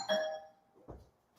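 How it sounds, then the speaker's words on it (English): A doorbell chimes a two-note ding-dong, clear and fairly close, fading out with no talk over it. "Oh, somebody doorbell."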